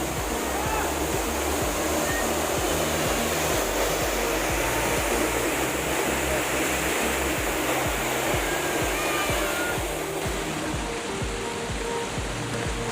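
Changey Falls in the valley of Kalimpong drops about 400 feet, and its roar is a loud, constant, broadband rush of water that fills the whole stretch without a break.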